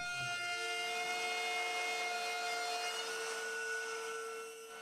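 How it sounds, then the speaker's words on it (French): Steady scraping of a hand plane levelling a wooden edge flush against an MDF workbench top, a continuous close rasping texture with a sustained tonal ring running through it, heard alone. "j'ai donc utilisé un rabot à main pour la mettre à niveau"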